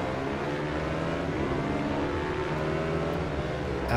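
Motorcycle engine in the racing game Ride 2 revving hard as the bike accelerates, a loud, continuous, close buzzing drone rising in pitch, with no talk over it.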